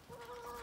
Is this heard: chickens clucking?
yes